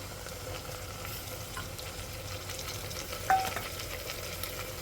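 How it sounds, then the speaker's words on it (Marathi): Onion, potato, peanuts and peas fry in a pan for spiced masale bhat rice, giving a steady, fairly soft sizzle that runs evenly throughout, with one brief sharper sound partway through. "आपला कांदा बटाटा इथे छान परततो आहे"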